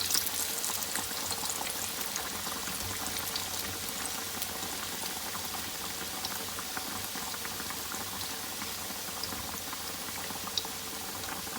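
Lahori fish frying in very hot ghee, a dense, steady bubbling and crackling sizzle that runs evenly and fairly softly throughout, with no voices over it.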